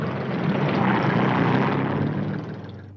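A propeller airplane engine drones loudly and steadily in an animated series, a dense continuous roar that holds for a few seconds and then begins to fade slightly toward the end, with no voices over it.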